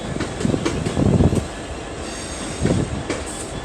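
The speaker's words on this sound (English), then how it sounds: "66-531 has drawn forward in preparation to run round its 3 KFA wagons" A Class 66 diesel locomotive, number 66531, rolls slowly with three KFA container wagons, giving a steady rumble with rhythmic clacks of wheels over rail joints, fairly close and with no talk.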